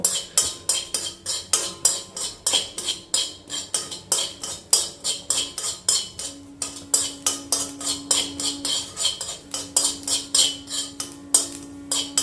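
Rapid, steady scraping and clinking of a spoon stirring dry poppy seeds in a metal pan, continuous and close, with no voices.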